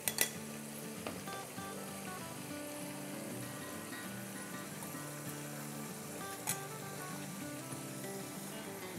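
Eggplants tipped into a pan of hot, sizzling masala for a spiced baingan dish, giving a steady moderate sizzle over several seconds with a couple of sharp clinks of utensils against the pan.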